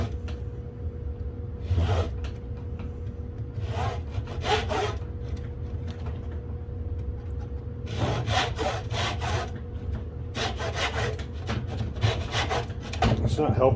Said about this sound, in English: So I'm going to take care of that with a handsaw.